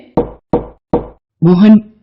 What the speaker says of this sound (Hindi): तभी दरवाजे के खटकने की आवाज आती है।